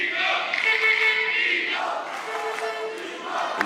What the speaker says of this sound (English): this is the home crowd for Timo Boll playing in Europe